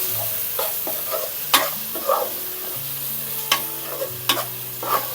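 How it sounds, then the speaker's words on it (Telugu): Ginger garlic paste and turmeric frying in a pan for a Telangana-style country chicken curry, with a soft sizzle under repeated scraping and clinking strokes of a stirring spoon, close and without speech. "వాటిని కూడా మంచిగా పచ్చివాసన పోయేంత వరకు మంచిగా కలుపుకుందాం."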